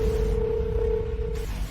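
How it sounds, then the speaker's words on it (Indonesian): A single steady telephone tone is heard for about a second and a half over a loud low background hum, as a phone call is being dialed in a domestic drama scene. "Saya akan telepon ibu sekarang."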